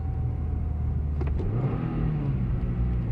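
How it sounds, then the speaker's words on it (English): Engine of a car in a video game drops from second into first gear, a steady loud rumble that rises in pitch mid-clip as the revs climb after the shift, with no talk. "Alright, let's see how second to first goes."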